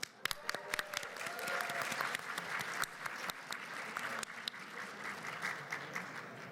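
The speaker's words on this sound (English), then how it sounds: "Give him a round of applause." A crowd at a gaming event claps in sustained applause for several seconds, dense and fairly loud, with no talking over it.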